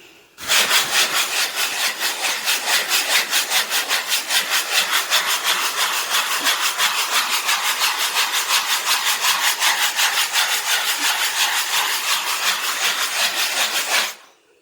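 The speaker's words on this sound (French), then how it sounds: "j'ai essayé de vous reprendre et puis de poncer ça en même temps" A chimney being hand-sanded gives loud, close, rapid back-and-forth scraping strokes in a steady rhythm that starts abruptly and stops just as suddenly after about thirteen seconds, with no voice.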